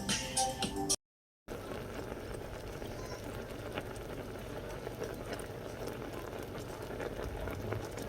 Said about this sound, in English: We're going to let that simmer until it comes to a boil